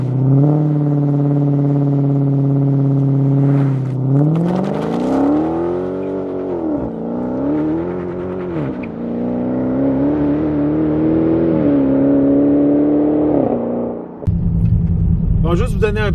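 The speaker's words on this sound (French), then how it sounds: "on met le gaz, et ils se préparent à leur RPM idéal, puis on part" A Dodge Challenger SRT Hellcat Redeye revs up with a loud, steady engine drone, then surges off the launch, its pitch climbing and dipping through gear changes as it accelerates hard before the sound cuts off abruptly near the end.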